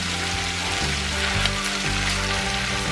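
Tomato paste goes into a hot pan of tas kebabı and sizzles with a steady, fizzing hiss like light rain, close and continuous, with a faint musical backdrop underneath.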